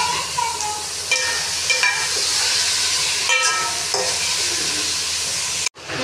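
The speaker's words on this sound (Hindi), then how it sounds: "दाल फ्राई हो रही है" Boiled chana dal fries in a pan for a karela and chana dal dish, a loud continuous sizzle broken by several scraping stirs and a short dropout just before the end.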